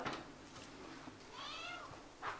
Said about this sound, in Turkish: Bir de niye miyavlıyor.